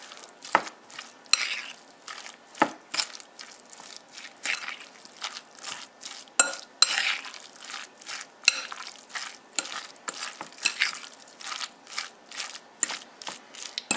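Seafood sandwich filling being mixed with dill pickle juice in a bowl, heard as quiet, irregular wet squelches and scraping strokes of a utensil, repeating for a while with no voices.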